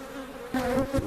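Honeybees buzz inside an open seven-frame beehive packed with brood, a steady low droning hum close by with a few louder swells.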